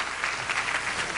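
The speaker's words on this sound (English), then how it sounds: "There's another round of applause, Dr. Friedman." A lecture audience gives Milton Friedman a steady round of applause, a dense, even patter of many clapping hands that continues without a break.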